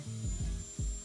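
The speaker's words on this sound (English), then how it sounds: "roughly flattening the edge with a rotary dremel tool with 320 grit sanding drum on it" Rotary Dremel tool fitted with a 320 grit sanding drum flattening a leather edge and trimming glue, with a close, steady high whine over grinding tones that dip and drop in pitch several times as the drum bites.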